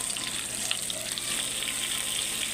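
Green chillies fry in a pan for gongura chutney, giving a steady, close sizzle and bubbling hiss that runs unbroken throughout.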